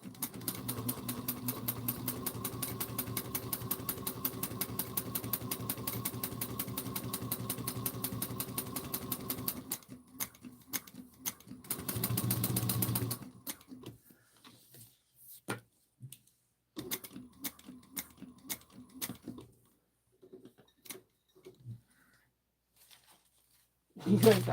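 Sewing machine stitching a bag, a steady rapid mechanical whir and clatter for about ten seconds, then short stop-start bursts of stitching with clicks and pauses as the work is pivoted, while a person talks.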